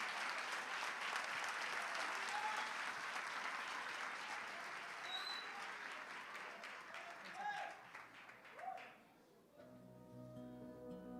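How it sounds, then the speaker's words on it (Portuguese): Churchgoers at a Sunday celebration service applaud together in a dense, continuous wash of clapping that tapers off near the end, leaving faint music and a voice. "Aplauda Jesus."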